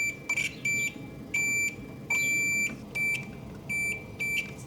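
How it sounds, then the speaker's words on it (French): Electrical tester beeping on car wiring, sounding about six short, shrill, evenly spaced beeps over a low background hum, close and clear with no voices. "Si ça bip, c'est que ça passe."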